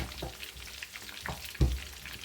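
Raw fish frying in hot oil, a steady sizzle with a few louder pops and a sharp clatter near the end, close and moderately loud with no talking.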